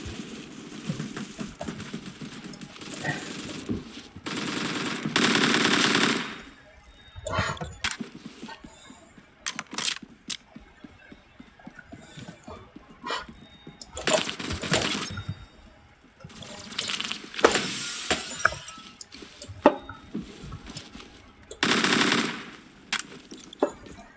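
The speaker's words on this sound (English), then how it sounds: "AK-74, I mean, it's not the worst gun I've ever used." Automatic AK-74 rifle fire in the Phantom Forces shooter game, several loud sustained bursts separated by quieter gaps with clicks and game noise.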